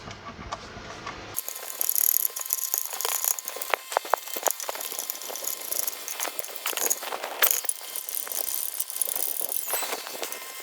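A hand ratchet snugs engine bolts on a 2008 GMC Acadia during an engine and transmission install, with quick clicking bursts and metallic rattles of tools close by.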